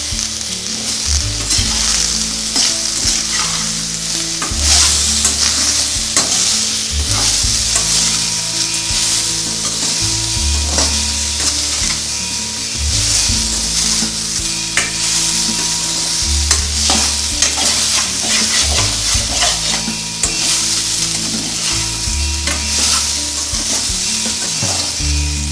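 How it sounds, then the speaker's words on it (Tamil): Raw banana stir-fried in a pan with salt: a steady, loud sizzle and frying crackle runs throughout, broken by repeated scraping and stirring strokes of a spatula against the pan, with no talking. "இப்போது இந்த உப்பு போட்டு இதெல்லாம் சேர்த்து வறுத்துக்கிட்டேன்னா இந்த வாழைக்காவையும் போட்டுக்கலாம்"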